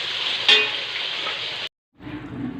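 Bay leaves, dried red chillies and whole garam masala fry in hot oil in a kadai, a steady close sizzle that cuts off briefly and then resumes a bit lower.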